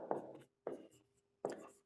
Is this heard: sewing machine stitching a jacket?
no